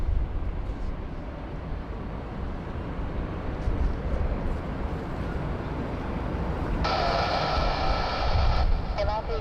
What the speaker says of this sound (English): just coming on runway left at the moment is Thai 657 from Seoul Incheon. It's an A350 900 today.